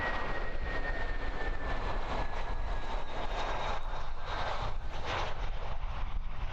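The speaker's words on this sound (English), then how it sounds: "First pretty rough landing of the day there from the pretty old A320." An aging Airbus A320 airliner makes a rough landing at Christchurch Airport in windy evening conditions, its engines roaring loud and steady with a whining tone, wind buffeting throughout.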